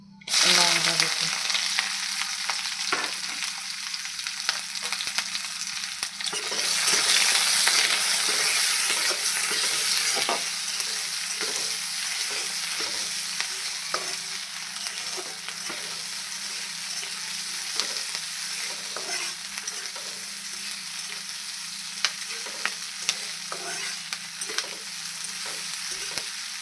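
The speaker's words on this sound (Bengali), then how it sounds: "পেঁয়াজগুলো অনেকটাই ভাজা ভাজা করা হয়ে গেছে।" Chopped onions and green chillies frying in hot oil in a pan, a loud continuous sizzle with repeated scraping stirs of a spatula, close up and without speech.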